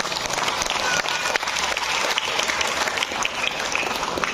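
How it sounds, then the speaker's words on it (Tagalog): A church congregation claps loudly and continuously during a worship service, a dense, sustained applause filling the room for several seconds with no one speaking. "pwede bang pumalakpak ng malakas na palakpak?"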